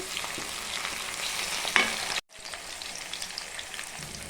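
Mutton fries in a pan with a close, steady crackling sizzle as a tomato is added. The sizzle briefly cuts out and then resumes, with a light stirring texture.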